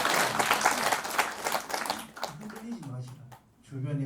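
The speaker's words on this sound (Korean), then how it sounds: "박수 크게 치세요" Audience applause during a Buddhist dharma talk, a burst of hearty clapping from a gathered crowd that fades after two seconds as a voice takes over.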